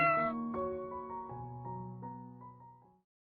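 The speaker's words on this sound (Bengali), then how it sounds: "বিড়ালের ডাক শোনা যাইতাছে, পাশের রাস্তায় মনে হয় বিড়ালটা কোকাইতাছে" A cartoon cat, hurt and trapped, lets out a long drawn-out meow that wavers and slowly fades over about three seconds, heard alone and fairly close.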